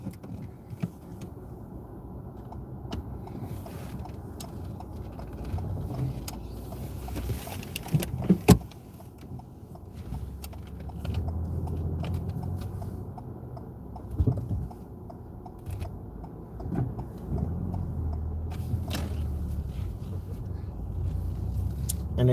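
Car pulling away on a driving test route, a low, steady engine hum and road rumble from inside the cabin with a few clicks and knocks, fairly quiet throughout.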